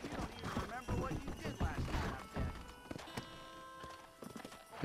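Rhythmic horse hooves clip-clopping at a steady gait in the video game Red Dead Redemption, fairly quiet, with faint ambient sounds and a light mechanical clicking near the end.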